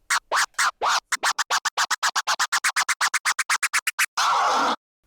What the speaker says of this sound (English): I'll teach you how to do the Chirp Scratch, which sounds like this.